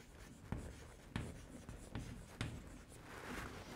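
Pen writing by hand on paper during a semiconductor physics lesson, soft steady scratching strokes with a few sharper taps, close and quiet with no talk.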